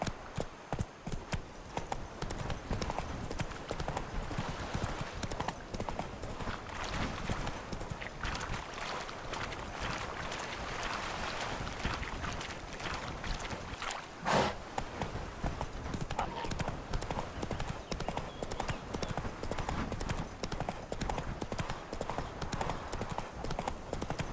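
Horse hooves clip-clop steadily through a ride in The Witcher 3 video game, a continuous rhythmic trot close up with game ambience and occasional voice underneath.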